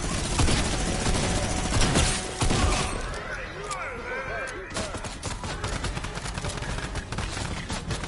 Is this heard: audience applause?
no